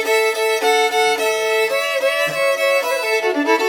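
Violin played in a West Texas fiddle style, a bright solo melody of sustained bowed notes sliding between pitches, loud and close with no voices.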